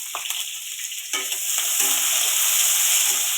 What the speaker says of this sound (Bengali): কাঁচা পেঁয়াজ রসুন দিয়ে দিলাম তেলে।